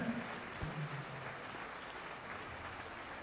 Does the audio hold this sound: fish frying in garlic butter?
no